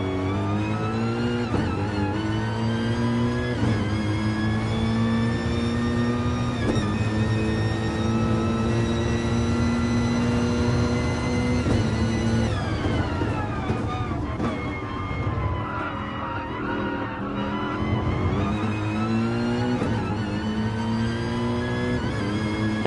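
A race car engine drones through a lap of Laguna Seca in a sim racing game, holding high revs with gear shifts and rising and falling pitch through the corners, loud and continuous.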